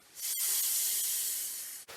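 A voice imitates a rocket's whoosh with one long, loud, breathy hiss that starts sharply, holds steady for about a second and a half, then cuts off, with no other sound around it.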